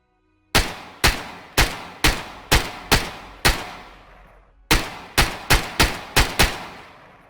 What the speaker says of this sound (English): That was some covering fire, if you wondered.